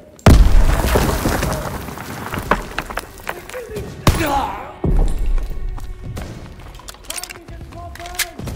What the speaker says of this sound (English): Lob it a grenade!